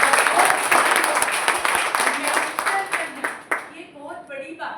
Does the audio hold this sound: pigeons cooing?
no